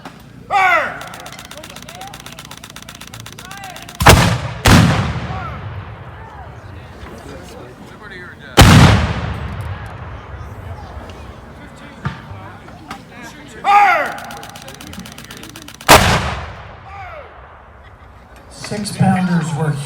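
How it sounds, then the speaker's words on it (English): Six-pounder cannons fire at a Battle of Camden reenactment, four or five loud booming blasts spread over about twenty seconds with rumbling echoes, and crowd chatter and voices between the shots. "6-pounders were huge guns"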